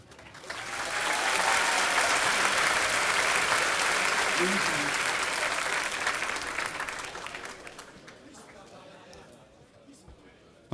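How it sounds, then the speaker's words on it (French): Applause from the crowd at a marathon award ceremony swells and holds steady for several seconds, then thins out and fades toward the end, with some voices mixed in. "merci de vous applaudir."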